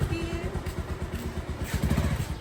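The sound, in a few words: motorcycle riding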